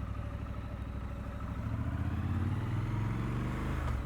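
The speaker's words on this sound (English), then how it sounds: "the bike's pulling away on its own." A Triumph Scrambler 1200 XE motorcycle engine idles with a low, thumping rumble, then revs rise as the bike slowly pulls away on its own, nearby and steady.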